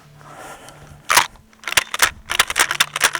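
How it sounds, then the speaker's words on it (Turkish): A defensive shotgun fires a quick series of sharp, cracking reports, roughly six or seven in close succession after a quiet opening, each a brief loud burst. "Silahın sesini duyuyorsunuz arkadaşlar."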